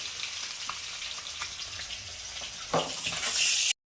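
Cumin seeds, black cumin and dried chillies sizzle in hot oil left over from frying fish, a steady close crackle with scattered pops that flares louder near the end.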